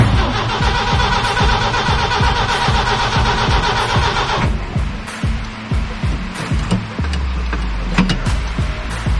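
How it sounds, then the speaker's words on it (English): Jeep CJ engine being started with the ignition key: a rhythmic starter cranking for several seconds, then the engine catches and runs roughly with uneven sputtering, loud and close. "Let's see if she'll fire up and you'll see why we need a choke."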